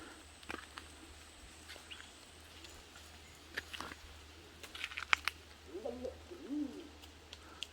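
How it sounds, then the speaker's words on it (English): An unidentified bird calls in a rainforest gorge near waterfalls and rock pools, soft low cooing phrases toward the end over a quiet ambient hum, with scattered faint clicks and ticks throughout. "we can hear some really interesting animal noise, which I assume is a bird"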